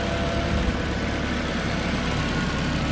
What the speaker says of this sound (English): Engine is now running okay